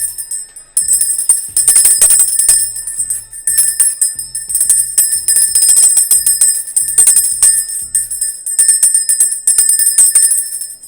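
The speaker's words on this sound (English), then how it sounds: "I'm about to cleanse the energy of this air in my room with this bell." A small hand bell rung repeatedly in a room for energy cleansing, bright sustained ringing strokes in quick irregular bursts, loud and close, with no talk.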